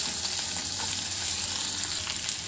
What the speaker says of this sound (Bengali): একবার নেড়ে মিশিয়ে নিচ্ছি।